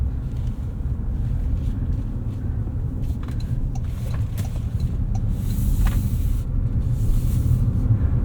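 A Toyota RAV4 Woodland plug-in hybrid with 324 horsepower cruising on the road, heard from inside as a steady low rumble of tyre and road noise with faint wind hiss and no talking.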